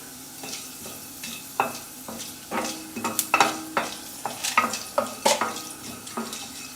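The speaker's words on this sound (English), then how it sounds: "Slow the flame and allow the urad dal or the black gram dal to become nice light golden brown in color." Urad dal (black gram) frying on a slow flame, a soft sizzle punctuated by a series of sharp spoon scrapes and clinks that grow busier as stirring continues.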